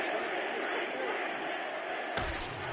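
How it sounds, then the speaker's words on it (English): A large crowd at a professional MMA fight event roars and cheers between rounds after a knockdown, a dense, sustained, fairly loud wash of voices with a sharp thump near the end. "So the crowd voicing its appreciation after that round."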